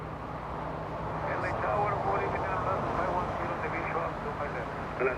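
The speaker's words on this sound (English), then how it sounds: "A350-900 landing on 25 left" An Airbus A350-900 airliner lands on runway 25 left at LAX, its engines a steady, distant broadband roar that swells slightly mid-clip, with speech from a commentator or radio underneath.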